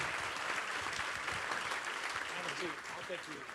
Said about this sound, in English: All right, you can clap again for John Williams and Don Shelby.